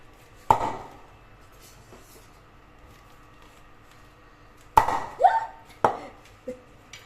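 A knife cuts into a fish head for cooking: a sharp chopping crack near the start, then a cluster of three or four close, crisp cuts and a fainter final tap after a quiet pause.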